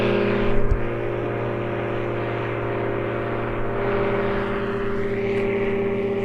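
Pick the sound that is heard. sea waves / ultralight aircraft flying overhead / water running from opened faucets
ultralight aircraft flying overhead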